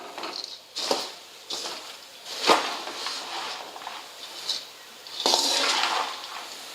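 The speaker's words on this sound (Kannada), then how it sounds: "ಇದು ಲೋ ಫ್ಲೇಮಲ್ಲಿ ಇಟ್ಕೊಂಡು ಸ್ವಲ್ಪ ಚುಮ್ಮರಿ ಕ್ರಿಸ್ಪಿ ಆಗಂಗೆ ಹುರ್ಕೋಬೇಕಾಗ್ತೈತಿ" Puffed rice churumuri is stirred and roasted crisp in a pan over a low flame, with irregular scraping, rustling and light clattering strokes coming close and fairly loud, without talk.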